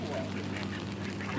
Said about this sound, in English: Feeding the ducks.